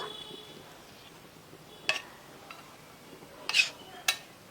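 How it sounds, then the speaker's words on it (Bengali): A metal spoon stirs chicken with hot water in a kadai, making a few sharp clinks and scrapes against the pan at scattered moments over quiet kitchen background. "চিকেনের সাথে গরম জলটা ভালো করে মিশিয়ে নেব।"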